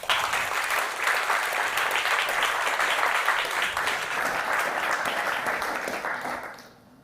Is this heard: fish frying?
no